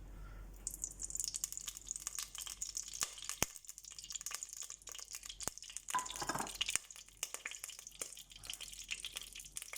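Oil heating in a pan for a fish curry with potatoes and beans: a soft, sparse crackle and sizzle with occasional sharp pops and stirring clinks, quiet and close, with no talk.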